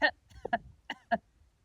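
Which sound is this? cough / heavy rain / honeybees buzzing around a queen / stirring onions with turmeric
cough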